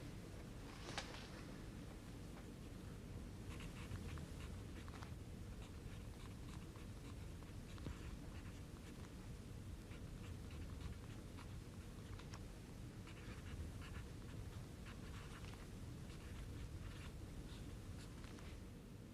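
Pen or pencil scratching on paper as someone writes by hand, faint and steady with small stroke clicks over quiet room tone, no voices.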